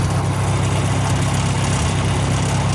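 A tractor engine idles close by with a steady, even low rumble and no voices over it.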